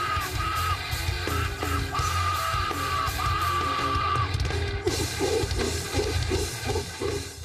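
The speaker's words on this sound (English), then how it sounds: "And this is the sound of Caribbean metal." Live Caribbean metal band at the Wacken 2016 festival, playing in a packed battle-of-the-bands tent: dense, loud, distorted guitar and drums with a yelled vocal over it, continuous throughout.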